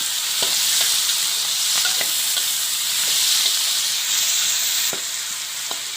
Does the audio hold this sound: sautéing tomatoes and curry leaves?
yes